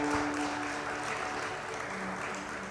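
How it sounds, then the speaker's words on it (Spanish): A church congregation applauds loudly for the Lord, a dense, steady wash of many hands clapping together that fades slightly toward the end, with no voices over it. "Dale un aplauso fuerte al Señor."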